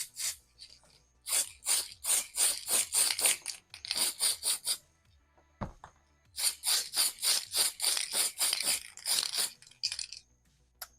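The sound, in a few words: spray paint can spraying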